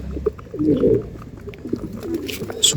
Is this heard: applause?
no